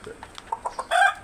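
A rooster clucks in a quick run of short, close notes, ending with a louder squawk.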